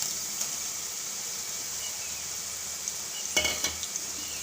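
Ridge gourd pieces go into a pan of fried potatoes in hot oil, giving a steady soft sizzle with a burst of louder crackling and a few clinks of stirring near the end.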